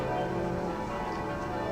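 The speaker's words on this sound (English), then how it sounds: "You can hear the fucking church bells for half an hour now." Church bells ringing steadily in the background, a dense wash of sustained metallic tones with no clear separate strikes.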